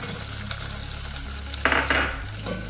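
Onion sizzles in hot oil with dry red chillies, curry leaves and garlic while a spoon stirs it, with a couple of sharp clinks against the pan near the end, all close up with no talk.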